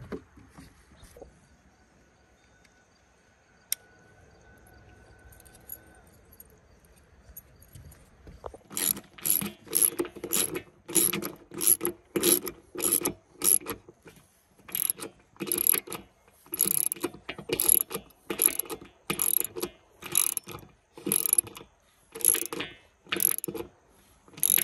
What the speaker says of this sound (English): Rivet, rivet. And that is a rivet nut.